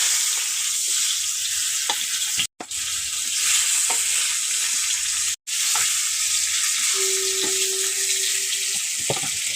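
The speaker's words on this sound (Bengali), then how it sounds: "বেঁচে থাকা তেলের মধ্যে আমি ভেজে নেবো আর কয়েক টুকরো আছে ভেজে নেব" Remaining pieces of katla fish head frying in leftover oil, a steady close sizzle and spatter throughout with a few stirring scrapes and brief gaps.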